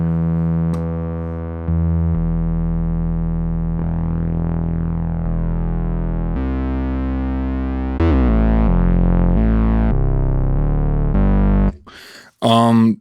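A Minimoog Model D synthesizer plays sustained tones with three oscillators stacked, a thick harmonic drone shifting pitch in steps and growing brighter and louder partway through before cutting off, followed by a brief burst of noisy sound.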